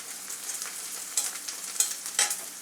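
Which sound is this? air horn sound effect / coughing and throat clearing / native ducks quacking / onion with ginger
onion with ginger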